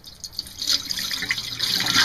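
Water being poured off acorn meal that has soaked for about three days, a steady splashing, trickling flow that swells and stays fairly close and loud throughout, with no talking.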